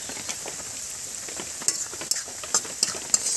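Spices with red chilli powder fry in a pan for rui fish kalia, giving a steady close sizzle with a few sharp clinks and scrapes of a stirring spoon toward the end.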